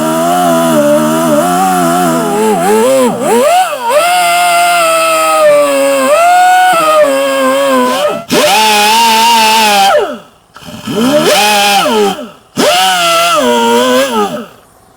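A power tool buffs away the outer rubber layer and ribs of a tire to prep for a patch, its loud whining grind rising and falling in pitch, cutting off briefly a few times before resuming.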